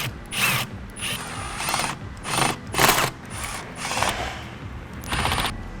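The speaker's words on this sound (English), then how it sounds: "Tighten down the hose clamps." Hose clamps being tightened on a cold air intake for a 2017-2019 Duramax, heard as repeated short bursts of clicking ratchet turns separated by brief pauses, close up.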